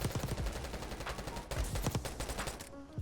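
Rapid bursts of OG MP5 submachine gun fire in Black Ops 6, a dense stream of sharp, close shots rattling almost continuously before a brief pause near the end.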